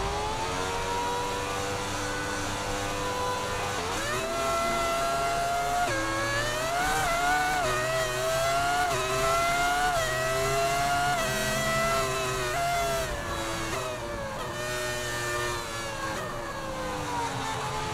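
Formula 1 race cars launching at a sprint race start in the F1 24 video game, engines screaming continuously with rising and falling pitch as they shift gears, loud and dense with several cars together.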